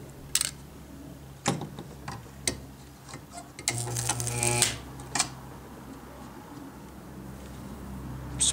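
A homemade spot welder fires a short buzzing, crackling burst of about a second, with scattered sharp ticks and clicks before and after it at close range.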